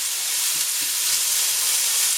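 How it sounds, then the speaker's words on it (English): Carrots sauteing in olive oil in a hot pan, a steady close sizzle and crackle with faint stirring clicks and no voices. "Saute the carrots first because they're still a little hard."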